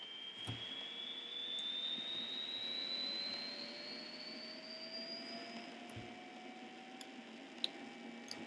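Airliner jet engines spooling up to takeoff power in the X-Plane flight simulator, a steady, fairly faint whine and roar whose pitch climbs slowly throughout, with a few small clicks.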